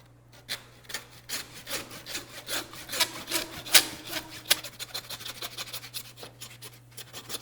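Handsaw cutting through the bones of a bison front quarter, a close, steady series of rasping back-and-forth strokes that grind and scrape through bone with an irregular rhythm.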